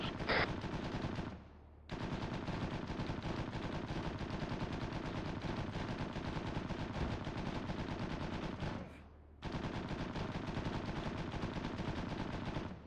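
Rapid autocannon fire from a Chimera in the video game Arma. Sustained loud bursts of heavy, rhythmic shots are broken by two brief pauses.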